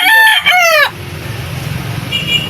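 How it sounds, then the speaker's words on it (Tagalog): A loud rooster crows close by, a single harmonic call lasting almost a second, followed by quiet outdoor background noise. "Napakagandang manok po ito mga"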